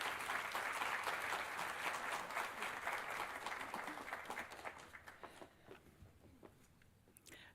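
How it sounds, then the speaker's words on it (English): Audience applause for the keynote speaker at a physician assistant studies white coat ceremony, a steady wash of clapping from a large crowd that gradually thins and fades toward the end, with a few last scattered claps. "would you all please give a round of applause for Eileen Munch"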